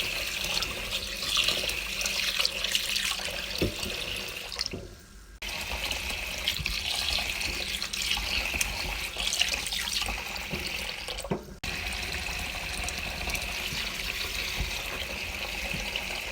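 Rice is washed under a running kitchen tap: a continuous close splash and gurgle of flowing water with sloshing textures, broken twice by brief pauses in the flow. No voices.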